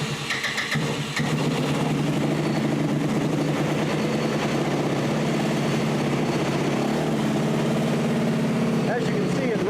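A Yerf-Dog go-kart with a small engine running at full throttle, a steady loud buzzing drone with a rough, constant pitch, recorded close and holding without letup for the whole stretch.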